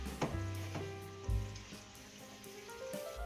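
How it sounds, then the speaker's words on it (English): Meatballs frying in a pan for a Persian-inspired cherry rice dish, a steady close hiss of sizzling oil with a couple of dull thumps as the pan is shaken or the balls are turned. "Shake the pan frequently or turn the balls every 2 minutes to ensure even cooking."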